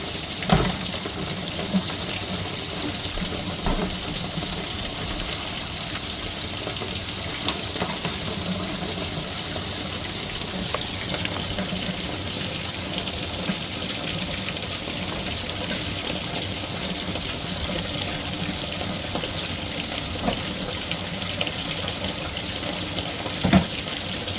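A laundry sink faucet in a basement runs steadily into a partly clogged basin, a constant loud rushing hiss of water with faint occasional clicks, unbroken for the whole stretch and without any talking.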